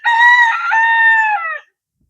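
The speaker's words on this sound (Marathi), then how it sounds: "सकाळ झाली, कोंबडा हरवला" A rooster crows once, loud and close, in a single sustained call lasting about a second and a half, heard alone at a village home during the rainy season.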